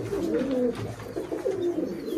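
A pair of Giribaj pigeons kept indoors give two rolling low coos in quick succession. The calls are close and clear over faint room background.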